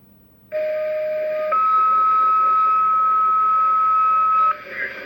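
Fire pager alert tones come through a radio scanner with a filter: two long steady tones, the second higher and held for several seconds over faint static, loud and clear.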